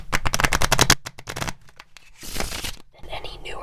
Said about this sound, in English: any newer set of cards is kind of hard to shuffle